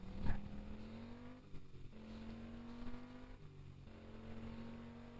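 Game-simulated BMW in Car For Sale Simulator 2023, an older model, engine accelerating through rising gear pulls, each rev climbing then dropping at shifts, loud and close with a brief knock at the start and no talk.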